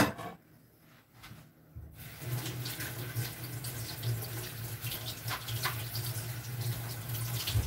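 Vegetables, including cabbage, washed under a running kitchen tap: after a short quiet start, a steady close hiss and splash of water with small rubbing sounds from hands moving the produce.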